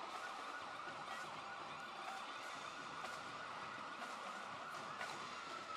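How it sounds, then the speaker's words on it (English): Wailing sirens from parade vehicles in a street parade, distant and faint, rising and falling over a steady crowd and traffic din. "they're actual parade sirens"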